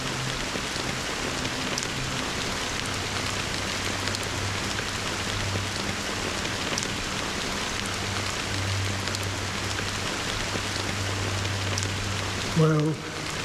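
Steady rain falls in the video game Honkai: Star Rail, an even, continuous hiss of drops with a low hum beneath, holding at one level throughout before a brief louder sound near the end.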